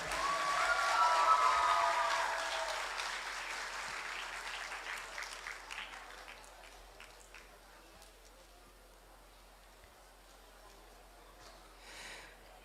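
Applause from a live Grand Final audience welcoming four finalists on stage, loudest at the start and thinning out into scattered clapping, with a brief renewed burst near the end.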